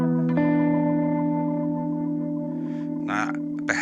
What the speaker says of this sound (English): I've got it so it's behaving a bit like a tremolo that's glitching.